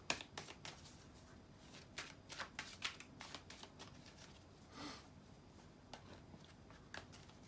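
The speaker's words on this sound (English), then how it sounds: "give me a second to shuffle the cards" A deck of tarot cards is shuffled by hand, giving quick riffling bursts and soft flicks at an irregular rhythm, close but very quiet, with no talk.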